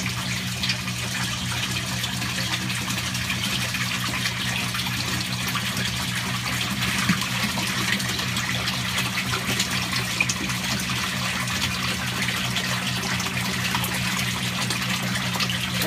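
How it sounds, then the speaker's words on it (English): Water gushing through a bell siphon into an aquaponics grow bed in a greenhouse, a continuous rushing, splashing flow with a low steady hum beneath it, close and sustained without pause. "it starts to draw all the air out of the cap of the bell siphon, and with that motion, bam, water flows right behind"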